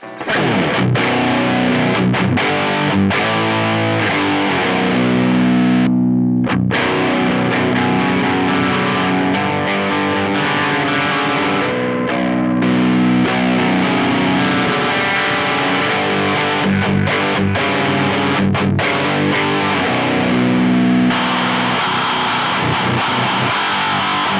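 An electric guitar plays loud, sustained distorted chords and riffs through a Burning Spirit overdrive pedal set with more mids and reduced gain, a thick overdriven tone, alone, with brief breaks between phrases.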